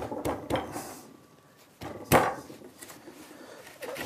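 A chisel knocks the corners off a piece of wood in a few sharp, separate knocks and taps, close and fairly quiet, with quiet gaps between.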